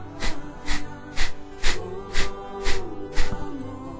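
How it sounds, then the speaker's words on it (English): Forceful exhalations are pushed through the nose in a steady pulsed rhythm as a breathing exercise, about eight sharp, evenly spaced bursts of air, close and fairly loud. "exhale forcefully through your nose."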